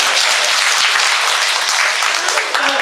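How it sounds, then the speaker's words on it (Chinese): Whole class claps together at a lecture on Dong-style acupuncture, a dense, steady burst of applause filling the room for about three seconds. "鼓掌。"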